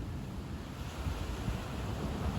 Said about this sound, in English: The waves were even bigger, hitting the end of the rocky outcrop